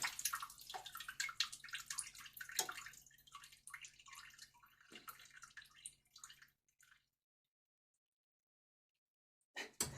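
Water runs and splashes unevenly over a cauliflower being washed in a sink, then stops abruptly into near silence before a short final splash; no talking.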